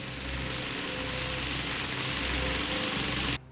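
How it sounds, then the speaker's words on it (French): A remote-controlled lawn mower built for a film runs with a steady, droning engine hum and buzzing harmonics, held close and constant before cutting off abruptly at the end. "une tondeuse à gazon télécommandée avait été fabriquée spécialement pour le film"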